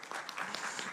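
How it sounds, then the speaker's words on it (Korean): An audience at an industry forum applauds with a brief burst of steady clapping, faint and heard from a distance. "큰 박수로 시작하겠습니다"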